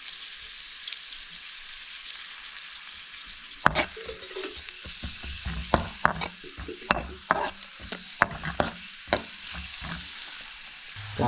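Onions for a prawn and garfish dish fry over a wood-fired clay stove, giving a constant hiss, then bursts of stirring scrapes and clatter that start partway through and keep coming at an irregular pace.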